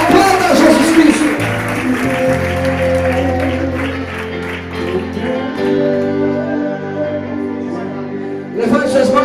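A church congregation claps together at worship, a broad steady wash of applause sustained throughout, layered over organ or keyboard chords and a loud room; voices rise near the end.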